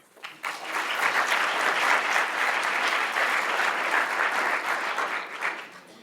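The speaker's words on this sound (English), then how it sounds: "So please welcome the director of the Damon Keith Center for Civil Rights, Professor Hammer" An audience at a Detroit civil rights event breaks into loud, sustained applause that swells quickly after a quiet start, holds full and even, then tapers off at the end.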